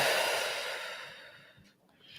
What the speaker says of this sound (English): feel free to make a noise as you're breathing out